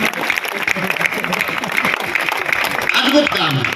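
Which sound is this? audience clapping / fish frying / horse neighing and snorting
audience clapping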